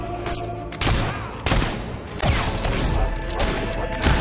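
Rapid gunfire in the Fable 3 video game, several loud bursts of shots with sharp cracks and rattling reports in quick succession.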